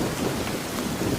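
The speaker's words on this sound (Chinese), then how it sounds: "天降大雨，队伍暂且休整。" Heavy rain pours steadily on a muddy road where a carriage is stuck, a dense continuous hiss with low rumbling beneath, no voices.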